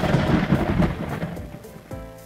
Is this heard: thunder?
yes